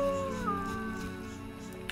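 A dog in The Witcher 1 whimpers and whines in a drawn-out, wavering cry close by, easing slightly softer over about two seconds, with no talking.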